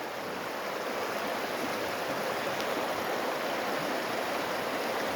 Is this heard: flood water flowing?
yes